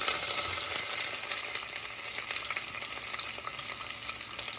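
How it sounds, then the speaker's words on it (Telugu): Onions frying with biryani flower and bay leaf in oil for a vegetable biryani, a dense continuous sizzle with faint stirring clicks throughout, no talking. "బిర్యానీ పువ్వు, బగారా ఆకు, తర్వాత ఆనియన్స్ వేసాను."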